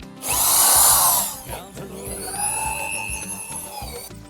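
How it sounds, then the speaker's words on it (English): A corded drill spins a scrubbing brush over car carpet during interior detailing, a loud whirring burst followed by a lower, uneven motor drone and scrubbing, close up with no talk. "this is on my corded drill, so try not to burn the carpet."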